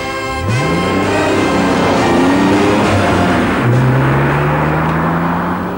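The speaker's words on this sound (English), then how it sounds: "Driving the NSX on the open road really is a very simple task." A 1990 Honda NSX drives on an open road, its engine note rising steadily through the gears with a smooth, continuous roar, loud and close, with a strong rushing whir underneath throughout.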